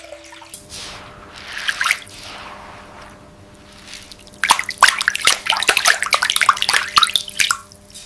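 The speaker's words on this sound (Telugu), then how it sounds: "ముందుగా మినప్పును శుభ్రంగా కడిగి కనీసం నాలుగు నుండి ఐదు గంటల పాటు తగిన్ని నీళ్లలో నానబెట్టుకోవాలి" Urad dal being washed in water, with wet splashing and squishing as the lentils are rubbed and stirred, soft at first and then busier, close and alone.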